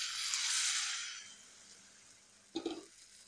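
Water poured into a pan of frying egg masala for an egg thokku curry, a loud hissing sizzle that fades over a second or so, then a brief bubbling splash near the end.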